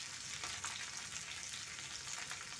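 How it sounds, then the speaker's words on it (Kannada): Green chillies with a spoonful of cumin seeds sizzle and crackle in hot oil, a steady close frying hiss with bright spattering pops throughout. "ಈಗ ಅದಕ್ಕೆ 1 ಸ್ಪೂನಷ್ಟು ಜೀರಿಗೆನ ಸೇರಿಸ್ಕೊತಾ ಇದ್ದೀನಿ"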